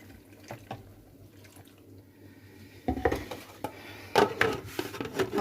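Water is poured into a bowl while a Ramadan breakfast is cooked, giving a soft splashing trickle with light clinks of the dish, close by and growing louder in the second half.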